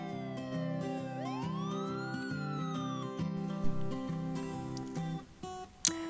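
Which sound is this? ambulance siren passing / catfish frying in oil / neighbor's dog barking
ambulance siren passing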